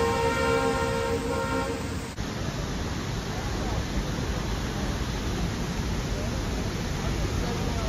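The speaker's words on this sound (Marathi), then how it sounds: "ट्रेन आली ट्रेन" A train arrives near Dudhsagar waterfall on a jungle trek route, a steady loud rumble filling the whole clip, with a sustained horn tone at the start that cuts off after about two seconds.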